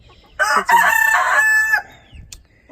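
A hen in a backyard coop gives a loud, drawn-out squawking call that rises and holds for over a second before cutting off. It is close and sharp, followed by a brief quieter cluck and near silence.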